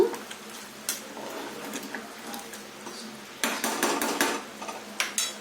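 Coriander and mint being stirred into mutton curry cooked in a pressure cooker, with a spoon scraping and clattering against the metal pot in close, repeated strokes, busier bursts toward the end over a faint sizzle.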